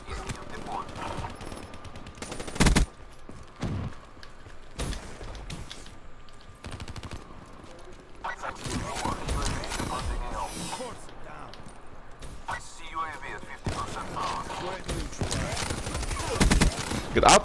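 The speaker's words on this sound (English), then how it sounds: "Whoa, who's shooting at me?" Gunfire in the Black Ops 3 multiplayer shooter, sharp shots and rapid bursts scattered over a dense bed of game noise and effects, some loud close cracks among busier distant firing.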